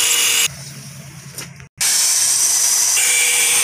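A power tool grinds down a disc brake part for a Toyota Hilux, loud and high-pitched. It dips and cuts out briefly midway, then resumes grinding steadily.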